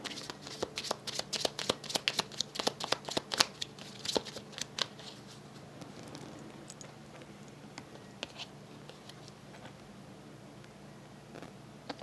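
A deck of oracle cards is shuffled close by in quick, crisp riffling pats over the first few seconds, followed by softer, sparse card handling.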